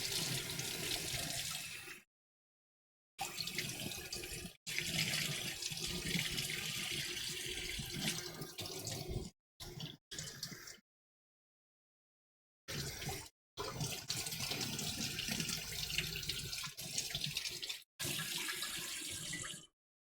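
Tap water running steadily over a pan being rinsed, loud and close, broken by several abrupt gaps of silence with no voices.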